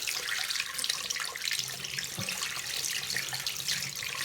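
A hot water tap in a Great Yarmouth B&B runs steadily into a sink, a continuous close hiss and splash with no talking.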